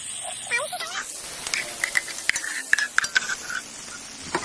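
Ground cashew-raisin paste sautéing in a pan for chicken ghee rice, with a steady soft sizzle and repeated light metallic scrapes and taps of a spoon against the pan, up close and moderately loud.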